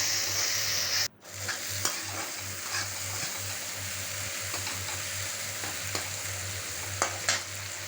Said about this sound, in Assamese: এয়া চাওক ঠেকেৰা তিয়াই থোৱা পানীখিনি দি দিছোঁ